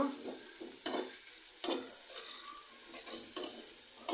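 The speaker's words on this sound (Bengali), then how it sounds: "দিয়ে দিলাম আদা রসুন এবং জিরার পেস্ট দিয়ে আবার একটু নেড়ে ছেড়ে দিব" Close, steady sizzling of ginger, garlic and cumin paste frying in a pan, broken by several scraping strokes of a spoon stirring it around.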